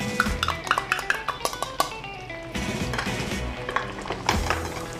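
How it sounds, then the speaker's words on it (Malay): A utensil scrapes and clinks against a pan in quick repeated strokes over a steady sizzle as nasi lemak ingredients are stirred with salt and seasoning powder, close up, with no talking. "dan kita gaul lagi."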